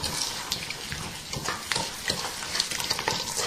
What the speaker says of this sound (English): I'm also going to add in the zest of a lemon and stir that all up together.